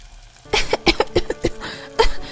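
A woman coughs hard and repeatedly in a smoky home kitchen where dal is being tempered, a rapid run of harsh close coughs followed by one more burst after a short pause.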